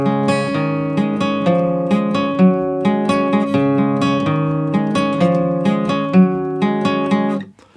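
A guitar plays a riff twice through, with clear repeating plucked notes and a steady rhythm. It is close and loud, with no talking.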